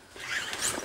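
Zipper running along a red folding fabric pet carrier for dogs and cats, a single close, quiet drawn-out zip lasting under a second with no talking.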